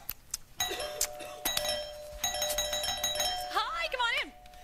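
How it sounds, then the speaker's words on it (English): A doorbell chimes several times in quick ringing tones, followed by a short rising and falling warble at the end. "I'll bring you one at a time with the doorbell."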